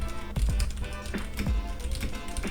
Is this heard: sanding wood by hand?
no